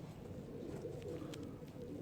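A pigeon cooing softly in a fancy-pigeon keeper's loft, low throaty coos over a faint, steady background murmur, quiet and fairly close.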